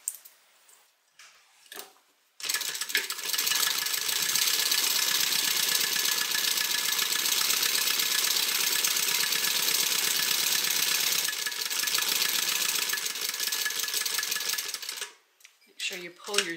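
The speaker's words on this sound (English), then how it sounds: "And then we're going to stitch using a 1/4 inch seam allowance." A sewing machine stitches a quarter-inch seam across a zipper on a fabric beverage bag, running steadily and close for about twelve seconds with a fast even whirring hum, bracketed by brief quiet handling before and after.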